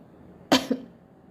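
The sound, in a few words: person coughing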